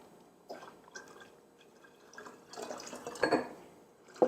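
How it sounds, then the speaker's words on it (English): Four cups of cold water splash and drip into a pitcher of chai tea, faint at first, then a louder gurgling pour near the end. "Then I'm going to add 4 cups of cold water."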